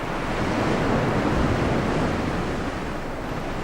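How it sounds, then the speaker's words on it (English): Ocean waves breaking on a beach along a coast, a continuous loud wash of surf with wind noise and no voices. "the process depends on waves hitting the beach at an angle, as they do along much of this coast."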